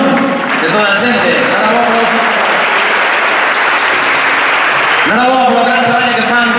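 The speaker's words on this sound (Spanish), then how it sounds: "Vente, a recibir aplauso tamén, non? De toda a xente." Audience at a Galician swimming federation awards gala clapping loudly and steadily as an honoree comes up, with a speaker's voice heard over the start and end of the applause.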